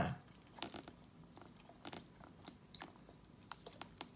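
Close, quiet chewing of Japanese instant noodles with basil and spices, with soft irregular bites and squishy crunches spread over a few seconds and no talk.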